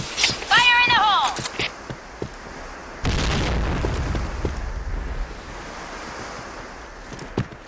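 A grenade explodes in the first-person shooter game Point Blank. A sharp blast cuts in midway and fades into a long rumbling roar, after earlier chirping game effects.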